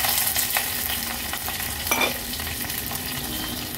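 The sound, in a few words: mustard seeds, cumin and curry leaves sizzling in ghee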